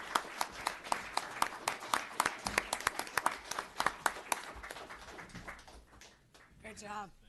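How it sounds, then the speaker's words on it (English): Scattered applause at a town board meeting honoring a police officer, a modest group clapping with distinct individual claps, faint and somewhat distant, thinning out toward the end as a voice begins speaking. "nice round of applause for Officer Donati"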